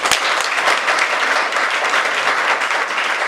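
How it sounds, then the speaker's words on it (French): Wedding guests applaud at an official civil marriage ceremony, a dense, steady burst of many hands clapping close by that fills the whole moment without letup. "Sous vos acclamations."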